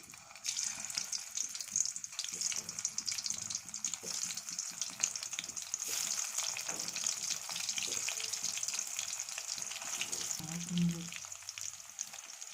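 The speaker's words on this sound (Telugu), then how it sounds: "ఆయిల్ హీట్ ఎక్కిన తర్వాత కాకరకాయలు వేసుకోవాలి" Bitter gourd pieces frying in hot oil in a kadai, a steady bright hiss of sizzling that runs the whole time with a few faint stirring knocks.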